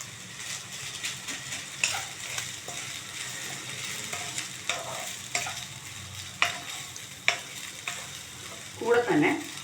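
Rice tossed with green mango, salt and coriander leaves is stirred steadily in a hot pan, with soft scraping and a light sizzle and a few sharper spoon clicks against the metal, close up with no talking.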